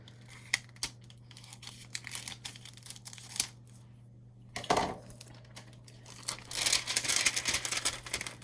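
Shrink wrap sleeve for a 10oz short lowball tumbler being cut in half, sharp crinkling and snipping clicks close by, irregular and quiet with a few louder crackles.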